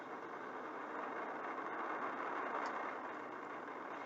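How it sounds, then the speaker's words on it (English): Roar of an SLS rocket launch, four RS-25 core-stage engines and two solid rocket boosters firing, a steady, dense broadband rumble heard from a distance, unbroken and even throughout. "All 4 RS-25 engines on the core stage and 2 solid rocket boosters now propelling the vehicle"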